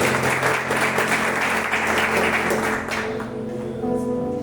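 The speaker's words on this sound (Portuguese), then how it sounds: "Você pode aplaudir bem forte ao nosso Deus e a sua palavra." Congregation applauding in church during a worship service, a loud, sustained wave of clapping that thins and fades toward the end while sustained musical tones continue underneath.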